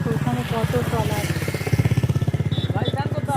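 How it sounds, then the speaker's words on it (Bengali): Engines of fishing trawler boats on a river near the Sundarbans, a steady close chugging drone with a fast regular pulse, heard under a speaking voice. "দেখো ওখানে কত ট্রলার"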